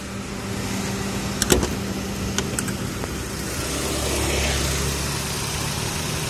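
A 2010 Kia Carens with a 1.6-litre twin-cam 16-valve engine idles close by, a smooth steady hum with a few light clicks near the start.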